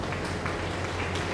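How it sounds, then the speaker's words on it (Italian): Applause from an audience fills a short stretch with dense, steady clapping, moderately loud and continuous, with no voice over it. "Applausi."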